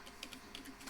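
Light tapping on a computer keyboard, a short burst of soft, quick keystrokes, faint and close, with no one speaking.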